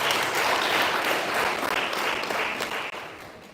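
Audience applause at a live launch event in Africa: dense, steady clapping from a large crowd, fairly loud and continuous for the whole stretch with no talk over it.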